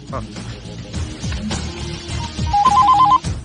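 A telephone rings with a trilling electronic tone near the end, over a busy background of talking and music.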